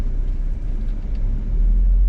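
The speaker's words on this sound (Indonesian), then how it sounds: "upper itu ada raungan mesin yang" A 2003 Toyota Kijang LGX EFI engine roars under load, a loud, steady low rumble with rising revs that holds alone for about two seconds.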